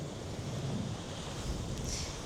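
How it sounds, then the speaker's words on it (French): Waves washing onto a rocky, sandy beach in Guadeloupe give a steady, soft rush of surf mixed with wind buffeting the microphone, with no voices. "Il n'y a personne ici parce qu'il y a un peu de vagues et des rochers."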